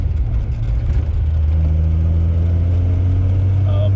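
A 1974 Triumph TR6 on a test drive pulls forward, its loud, close engine drone rising in pitch as it accelerates over a few seconds under steady road noise.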